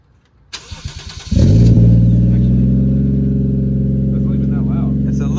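A Toyota Soarer fitted with a new exhaust cranks briefly, then catches and settles into a loud, steady, close-up engine note that holds to the end, with a voice speaking over the cranking.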